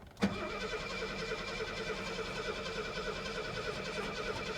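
An old Mercedes engine cranks continuously without catching, a steady rhythmic churning of the starter after a sharp click at the start, heard close and fairly quiet with no speech.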